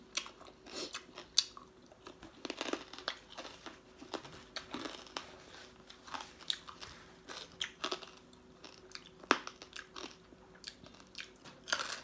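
Crunchy papaya salad with rice noodles, chewed close up, gives repeated crisp bites and crunches in an irregular rhythm across the whole stretch, with no talking.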